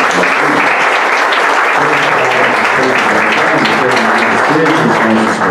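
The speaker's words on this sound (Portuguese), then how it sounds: "Vamos aplaudir a palavra de Deus." Loud, sustained applause from a large crowd at a Catholic Mass, steady clapping filling the whole stretch without a break.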